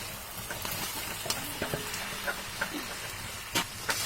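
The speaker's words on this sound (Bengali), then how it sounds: "এখন আমরা মাংস ছেড়ে দিব" Fried meat pieces tipped into a pan of cooking spice paste, giving a quiet, steady sizzle and hiss with scattered clinks and stirring scrapes, no talking.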